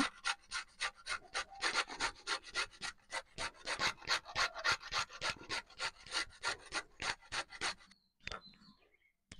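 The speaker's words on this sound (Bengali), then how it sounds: "বিট আমি ঘষে নেব, দিয়ে রসটা বার করে নেব" A beetroot is grated by hand in a steady rapid rhythm of about twenty-five close rasping strokes, then stops with a couple of faint clinks at the end, no talking.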